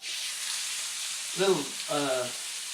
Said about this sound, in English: We're going to do a sear on them just like you would a sirloin or any other steak that you're cooking.